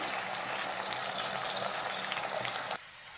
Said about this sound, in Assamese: আলুখিনি ধুনীয়াকৈ ফ্ৰাই কৰি আছোঁ